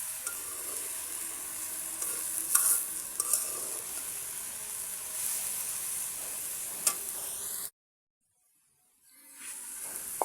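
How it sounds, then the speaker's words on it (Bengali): Red amaranth greens are stirred and fried with tempering spices in a wok over a wood-fired stove. A close, constant sizzle and hiss runs with scraping stir strokes, then cuts to silence briefly before resuming. "আমি এখন শাকটাকে নেড়ে দিচ্ছি ফোড়ন দিয়ে"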